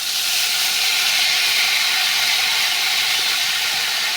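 Potato jhuri batter poured from a bottle in thin strands into hot oil, frying with a steady, loud, even hiss and sizzle that holds unbroken from start to finish, with no talking.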